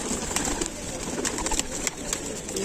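Soft pigeon cooing sits under a steady background hiss, faint and continuous with no talking.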